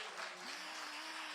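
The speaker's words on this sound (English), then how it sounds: "keep the claps going" An audience claps after a poem at a live poetry event, a dense steady patter of many hands throughout, with a faint sustained tone running under it.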